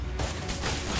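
Gunfire in the Mobile Legends video game comes as a dense, loud burst of rapid shots that fills the whole moment, harsh and crowded with no voices on top.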